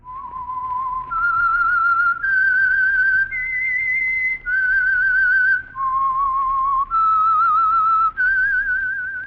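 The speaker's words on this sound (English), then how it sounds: "That whistle is your signal for the Signal Oil program, The Whistler." A person whistles a slow, eerie theme melody for The Whistler radio program, held notes stepping up and down in pitch, clear and close with short breaths between phrases.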